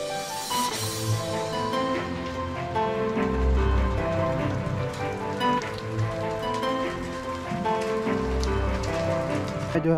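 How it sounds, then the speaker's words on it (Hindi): Heavy, continuous rain pours down in a cold mountain village in the Himalayan hills, a dense steady roar of drops drumming on surfaces, loud and close, without a break and with no voices. "देख सकते हैं पूरे, मतलब कितनी खतरनाक बारिश हो रही है"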